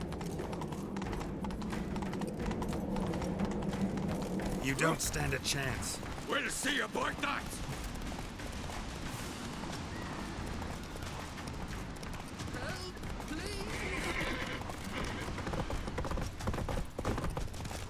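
Geralt's horse Roach gallops in The Witcher 3, a steady clip-clop of hooves running throughout under battle noise, with game characters exchanging shouted lines partway.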